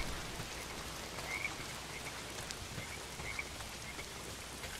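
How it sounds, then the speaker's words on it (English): Heavy, steady downpour in the Days Gone video game, a dense continuous hiss of rain with faint chirping or croaking sounds over it and no talking. "Well, not if it's pissing down rain."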